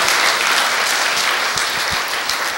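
Sustained audience applause at a Buddhist military chaplains' day award ceremony, a dense steady wash of many hands clapping at close range with no talk over it.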